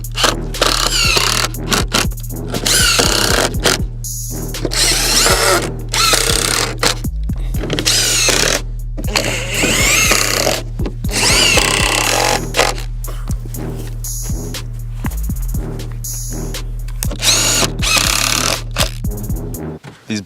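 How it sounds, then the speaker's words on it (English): A power drill drives screws into a wooden pallet compost bin, with repeated whirring bursts and clunks of wood handling over a constant low hum, close and fairly loud. "But I'm just going to throw some screws in there."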